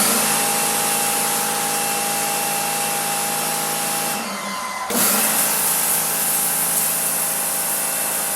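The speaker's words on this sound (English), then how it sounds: "On to power washing we go." A power washer sprays a garage's concrete floor, a loud, steady hissing roar throughout with a brief dip and sputter midway before the spray resumes at full force.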